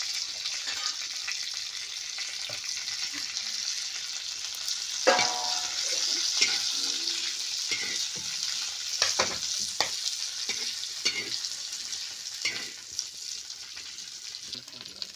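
Masala with coconut frying and being stirred in a pan, with steady sizzling and intermittent scraping stirs, close and moderately quiet.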